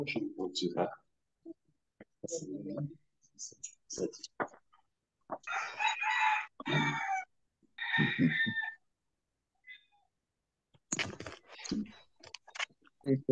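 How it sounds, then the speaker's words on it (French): A rooster crows in a few separate, loud, harsh bursts, with short, choppy vocal sounds in the pauses between them. "cocorico aime à chanter."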